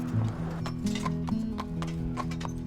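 Carriage horse hooves clip-clop steadily on pavement in St. Augustine, Florida, a close, regular rhythm running throughout with a brief whinny, over a low steady background hum.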